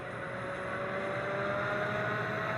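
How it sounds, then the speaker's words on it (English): A train's electric motor in a voxel train video game puts out a steady, high-pitched whine over a broad, even hum, constant and moderately quiet, with no voices. "Engine motor, the motor whine is crazy."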